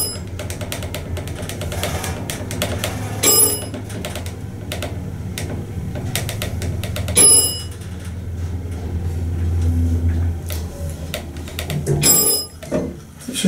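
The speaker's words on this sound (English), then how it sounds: "Listen to the bell." Bell chimes sound inside a moving elevator in the Wells Fargo building in Virginia: three bright dings spaced several seconds apart over a steady low mechanical hum.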